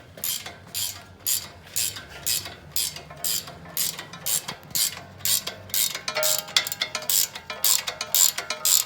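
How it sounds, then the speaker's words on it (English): A ratcheting wrench turning a nut on the drag link of a Jeep Wrangler Rubicon, giving rapid clicking bursts in an uneven rhythm, close and fairly loud, with no talk. "if you don't have ratcheting wrenches, you need them. Ratcheting wrenches will save you."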